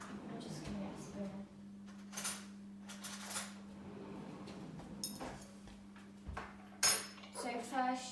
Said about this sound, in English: I'm just going to get a spoon.